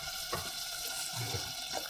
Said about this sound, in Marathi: मिक्सरचं पाणी टाकायचं